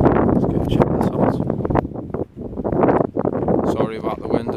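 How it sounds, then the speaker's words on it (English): Heavy wind buffets the microphone outdoors at an abandoned asphalt factory, a loud, continuous rumbling roar with gusty surges, and a person talks through it. "Sorry about the wind as well,"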